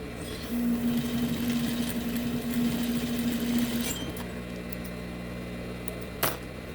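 A sewing machine stitches a fabric farmhouse-style bread basket, running in a steady, continuous whir for about three seconds. It then stops and quieter handling noise and a brief tap follow.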